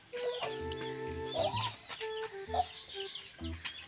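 Chickens cluck repeatedly in short, pitched bursts, close and fairly loud, with overlapping calls throughout.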